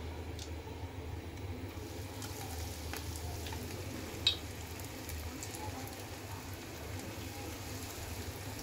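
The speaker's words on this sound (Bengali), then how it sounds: "এখন আমি একটা একটা করে রোলগুলো দিয়ে দিব। তেলটা গরম হয়ে গিয়েছে।" Chicken vegetable rolls fry in hot oil with a steady, close, even sizzle and crackle throughout, broken only by one brief sharp tick midway.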